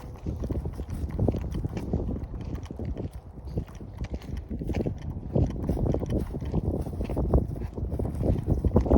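Gusty wind buffets the microphone on an outdoor nature walk, a steady loud rumble with fluctuating bursts throughout.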